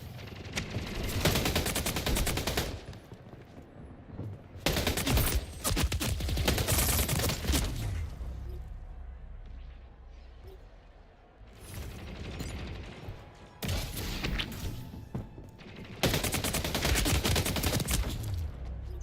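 Gunfire in the Splitgate 2 video game: loud bursts of rapid automatic fire in several long volleys separated by quieter gaps, with no talking.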